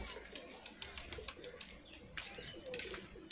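Pigeons flutter and call at a pigeon club in Sialkot, with soft coos and repeated wing flaps, moderately close over a faint outdoor background.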